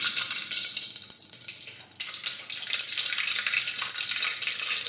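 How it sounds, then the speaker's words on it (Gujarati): Mustard seeds and cumin sizzling in hot oil in a pan, a steady bright crackling hiss with faint popping and a brief dip before the frying noise swells again, close and continuous. "હવે આપણે તેમાં રાઈ અને જીરું નાખીશું."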